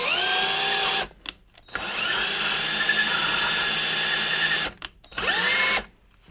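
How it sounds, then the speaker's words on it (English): A handheld power drill spins an engine valve against its seat in a cylinder head during a lapping job. Its steady high whine holds for several seconds, stops briefly twice and restarts, with the direction swapping. No one speaks. "I slowly spin it and apply pressure in towards the head with the drill"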